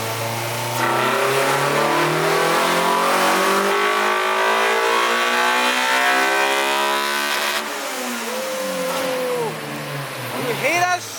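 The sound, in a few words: Honda Type R B18C5 engine revving on dyno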